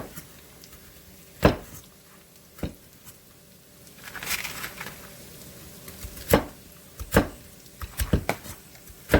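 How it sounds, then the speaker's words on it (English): Portobello mushrooms being cut with a knife on a board, heard as a handful of irregular soft thuds and taps, some bunched together, close and fairly quiet with no talk. "we have our portobello mushrooms, and we're going to give them a little cut"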